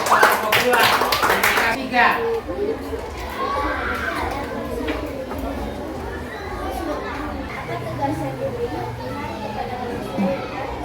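A class of children bursts into brief scattered clapping, which fades into lively children's chatter and play noise that fills the room for the rest of the time.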